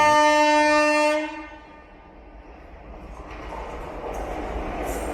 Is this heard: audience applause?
no